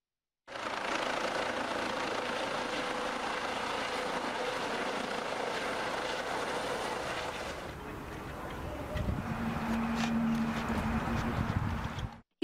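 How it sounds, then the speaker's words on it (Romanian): A SMURD air ambulance helicopter lands at a stadium in Chișinău, its steady loud rotor and engine roar filling the air before shifting to a lower, smoother whine with a sustained hum near the end. "Elicopterul SMURD a aterizat astăzi la prânz pe stadionul Dinamo din Chișinău."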